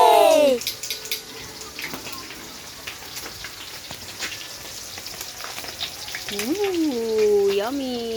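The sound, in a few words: frying food in a pan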